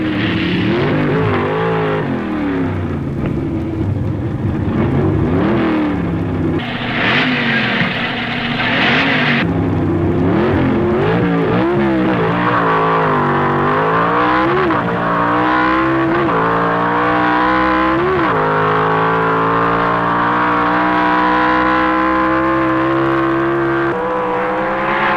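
Stock cars at a drag racing Nationals event roar loudly, engines revving and shifting through gears with rising pitch over about twenty-five seconds, steady and close with no voices.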